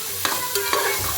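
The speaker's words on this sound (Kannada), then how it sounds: "ಹಾಗಲಕಾಯಿ ಮೊದಲು ಹುರ್ಕೊಳ್ತಾ ಇದ್ದೀನಿ" Bitter gourd stir-fried with salt and oil in a pan gives a brief sizzle with a few quick scraping stir strokes, close by and with no talking.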